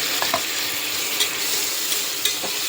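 Chopped tomatoes mashed and stirred in a frying pan for a green field bean sambar, with a steady broadband sizzle and occasional soft scraping knocks of the spoon against the pan, close and continuous.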